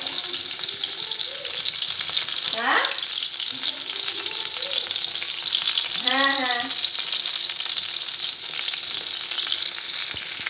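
Potatoes frying in a pan make a continuous loud hiss and sizzle throughout, close and steady, with a couple of brief clattering stirs partway through and no speech.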